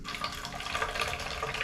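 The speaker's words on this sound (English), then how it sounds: "Let's pour it." Aged Red Bull poured from the can into a glass, a steady close fizzing, splashing stream that runs without pause.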